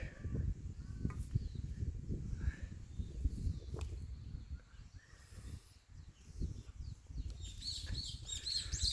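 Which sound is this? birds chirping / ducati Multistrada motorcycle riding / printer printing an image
birds chirping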